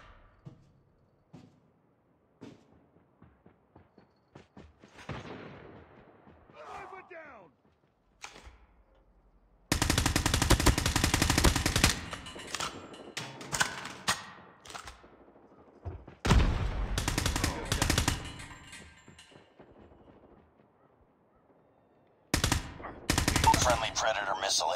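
Call of Duty gameplay bursts into loud bouts of automatic gunfire, rapid rattling volleys separated by quiet gaps, with a few faint scattered sounds and brief game voice lines in between.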